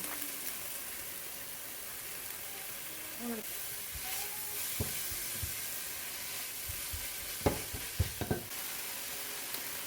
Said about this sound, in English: So I'm going to let this brown for a little bit, and I'm going to keep stirring it